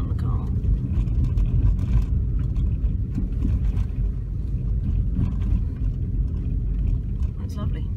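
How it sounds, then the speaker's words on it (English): A car testing its suspension on a bumpy rural road through countryside near Wooler, a continuous low engine and road rumble inside the cabin, loud and steady, with people talking over it. "Certainly test the suspension on the car."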